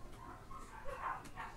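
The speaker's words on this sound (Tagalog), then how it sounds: "Matahol na naman yung mga aso." Dogs bark faintly in the distance, a few soft yips and woofs at irregular intervals over quiet room tone.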